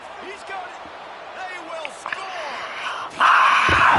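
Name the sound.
crowd cheering in a football video game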